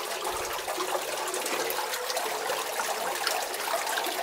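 Water trickling at a qanat spring dug 300 metres into a mountain above Esfandiar village in South Khorasan, a close, steady splashing dribble echoing in the rock tunnel.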